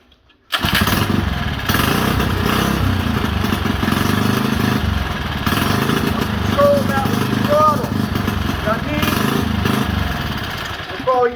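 A small mini bike engine runs steadily at a low idle after a fuel circuit adjustment, a loud, continuous buzzing drone that starts abruptly and holds for about eleven seconds, with faint chirps and voices in the background.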